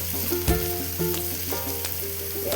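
Onion and garlic frying in a pan, a steady close sizzle punctuated by rhythmic spatula taps and scrapes about every half second.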